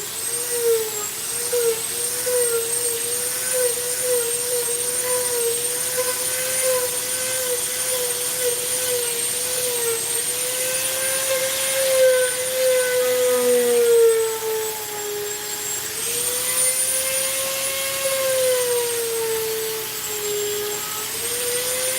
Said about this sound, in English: I'm going to Dremel this.